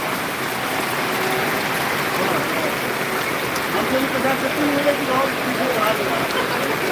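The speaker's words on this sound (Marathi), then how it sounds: "या ठिकाणी मोठ्या प्रमाणात हा पाऊस पडतो" Heavy unseasonal rain pours steadily over the Boisar vegetable market in Palghar district, a dense continuous hiss close by, with faint voices in the background.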